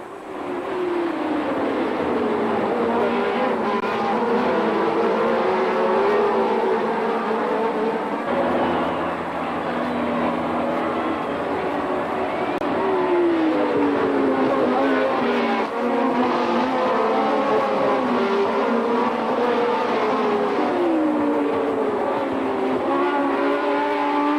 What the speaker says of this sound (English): immediately after the start, Lauda starts pushing very hard behind Hunt's McLaren